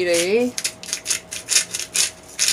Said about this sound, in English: I'm going to talk while I grind my pepper